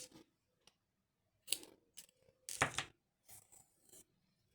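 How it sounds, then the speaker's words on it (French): Scissors snipping crochet yarn up close: several short, crisp cuts and rustles in quick irregular bursts separated by quiet gaps. "je peux couper mon fil"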